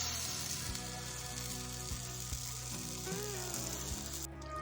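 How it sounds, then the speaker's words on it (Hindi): Tomatoes for charsi karahi sizzle and fry in a pan as they are stirred, a steady close crackle with occasional scraping knocks, and no voices over it. "जैसे जैसे हम इसकी बुनाई करते जाएंगे हमारे टमाटर अच्छे तरीके से गलते जाएंगे"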